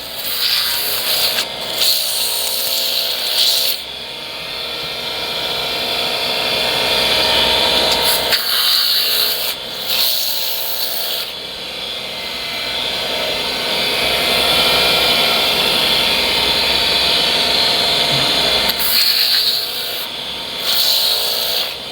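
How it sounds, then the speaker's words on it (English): A power sander grinds against a handmade bracelet in a long, steady whirring rasp, stopping briefly a few times before starting again, with no talk over it. "Now let's go back to sanding."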